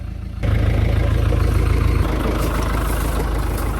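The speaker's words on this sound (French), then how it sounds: "Il y a un tracteur qui va passer." A tractor passes very close, its engine a loud, steady, low throbbing rumble that swells suddenly and holds throughout.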